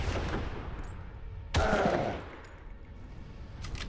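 A sudden loud burst of sniper gunfire in the video game Far Cry, in a volcano, cuts through ongoing background noise, then fades into a rumbling tail.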